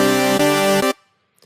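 Dubstep synth chord built from a clean saw wave layered with a detuned saw an octave lower, struck twice in quick succession with a bright, buzzing sustain, then cut off into silence, loud and close.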